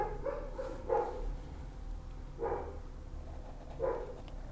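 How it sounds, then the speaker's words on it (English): Dogs bark indoors in three short bursts spaced a couple of seconds apart, moderately near and fairly soft, over a low background hum with no talking. "Big barks."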